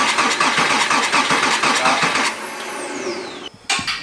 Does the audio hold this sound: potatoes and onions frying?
no